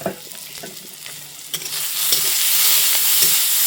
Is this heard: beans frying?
yes